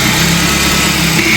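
A Nissan Platina car engine running steadily just after being started, a loud, continuous close-up idle hum with no talk over it.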